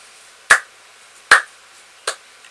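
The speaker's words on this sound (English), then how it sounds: "Yeah, this is my clap." Three sharp, isolated clap-like hits spaced about three-quarters of a second apart, the first two loud and the last slightly softer, with near silence between them; a single person clapping close by while playing FIFA 14 Ultimate Team.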